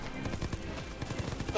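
Rapid gunfire in the heist video game Payday 2, with dense bursts of shots rattling in quick succession over low background noise.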